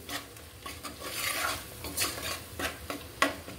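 Chili powder and other ingredients for a greens dish with lentils, potato and shrimp are stirred in a pan over low heat, with quiet scraping and clinking spoon strokes over a faint sizzle.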